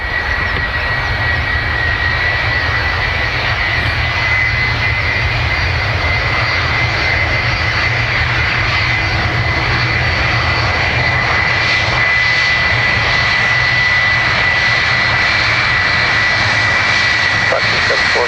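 A United airliner taxies at Dublin Airport after landing, its jet engines giving a steady, loud, unbroken roar close by, with faint voices over the top.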